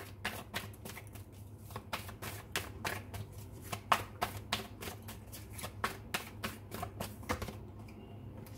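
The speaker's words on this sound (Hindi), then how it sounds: "एक बार टैरोट से भी कुछ कार्ड्स निकाल लेते हैं और देख लेते हैं यहाँ से क्या आता है" Tarot cards are shuffled and drawn by hand, giving a close, quick run of crisp slaps and riffling clicks in an uneven rhythm over a faint low hum.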